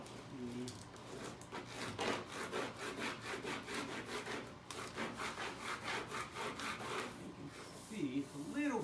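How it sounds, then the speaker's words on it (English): A squeegee is rubbed over a vinyl wall stripe, giving rhythmic rasping strokes, back and forth, close and quiet, with a brief voice near the end. "I'm just going to go ahead and put a little squeegee here, and let's start coming down"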